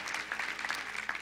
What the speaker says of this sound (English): Give a clap offering of praise if you're in agreement.